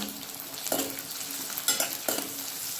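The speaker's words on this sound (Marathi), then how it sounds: "हे सगळे मी फ्राय करून घेते थोडासा गुलाबी होईपर्यंत" Onion fries in oil with bay leaf, star anise, cinnamon, cloves and black pepper for veg pulao, a soft steady sizzle with a few sharp stirring scrapes, close and fairly quiet, no speech.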